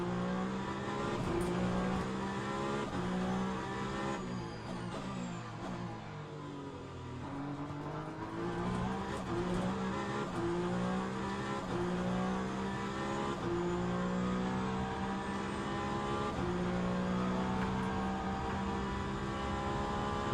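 A Peugeot race car engine in a racing video game with 60+ cars in the rain, holding a sustained high whine that climbs and drops through gear changes, with one brief lift around the middle.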